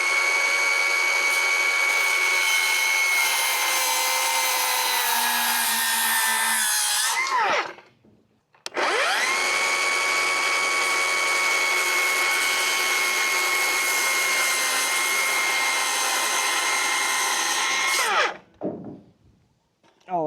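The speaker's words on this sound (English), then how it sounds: "All I did there is just kind of cut it so I have a straight spot to grind to" A loud power tool cuts steel on a dump trailer top rail in two long sustained passes, each ending as the motor winds down, with a short gap between runs.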